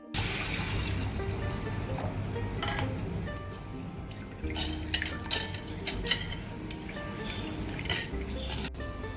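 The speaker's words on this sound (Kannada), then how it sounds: "ಮೊದಲಿಗೆ ನಾನು ಇವಾಗ ಬೇಳೆನ ಒಂದೆರಡು ಸಲ ತೊಳ್ಕೊಂಡು ಬೇಯಿಸ್ಕೊಳ್ತೀನಿ" Lentils are swished and rinsed in water inside a metal pot, with sloshing, trickling and frequent clinks against the sides, close up.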